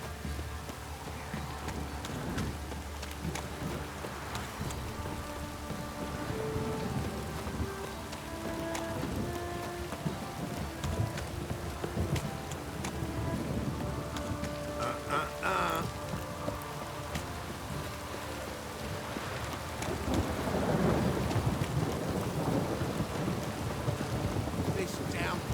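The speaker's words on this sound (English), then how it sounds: "Don't stop raining, my arse will rot off." Heavy rain hisses steadily with a low rumble of thunder beneath it, continuous and fairly loud throughout, mixed with faint tonal sounds and distant voices.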